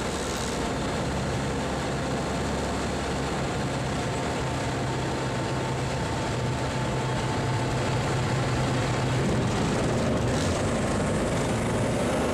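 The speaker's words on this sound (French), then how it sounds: "C'est un avion qui est très très léger." Steady, loud drone of a very light CTLS aircraft engine in flight on approach to a runway in misty weather, a continuous broadband roar with a low hum that stays constant throughout.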